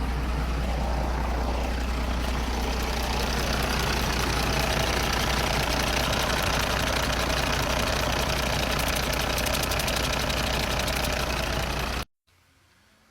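A Cat industrial engine runs steadily with its air compressor failing to unload, giving a loud, continuous mechanical drone with a knocking undertone for about twelve seconds before cutting off abruptly.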